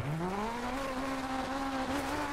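Rally car engine in DiRT 4 at a Triple Crown rally stage in Australia, a steady droning whine rising in pitch then holding, heard alone at moderate level.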